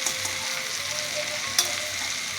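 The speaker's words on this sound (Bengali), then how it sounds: "এবার একটু জল দিচ্ছি," Spices sizzling and frying in a pan as water goes in for a Bengali sutki (dried fish) dish, a steady broadband hiss with a brief sharper burst partway through.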